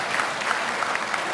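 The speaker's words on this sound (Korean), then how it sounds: "여러분 박수 좀 부탁드리겠습니다." An audience at a Korean political report meeting breaks into steady applause, a dense patter of many hands clapping at moderate distance, continuing evenly throughout.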